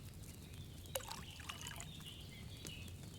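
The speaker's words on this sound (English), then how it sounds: "you have to pour the right base into the cauldron" Wine poured into a cauldron in the video game Kingdom Come: Deliverance 2, a quiet liquid trickle with small splashes over a low background hum, no talking.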